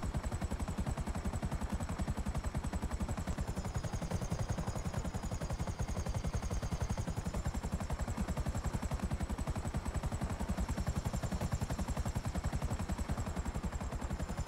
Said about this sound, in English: my helicopter's going up